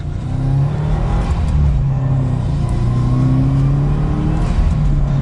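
A Subaru WRX sports sedan engine revs up steadily as the car accelerates, a loud, sustained rising hum with road rumble underneath.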